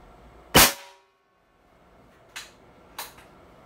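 A tuned Benjamin Bulldog air rifle firing a 145 grain slug: one sharp, loud crack, then quiet, then two fainter short clicks close together near the end.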